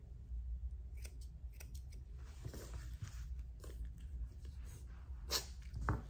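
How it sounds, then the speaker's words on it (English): Curved grooming shears snip the facial hair of a Havanese dog between mustache and eye, a series of quick, quiet close metallic cuts in irregular bursts over a low background. "Using my Fusion curvy shears, I'm going to come in and trim between the mustache and the eye."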